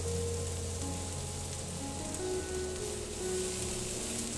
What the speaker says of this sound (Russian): Перемешиваю овощи со специями и жарю еще 1 минутку.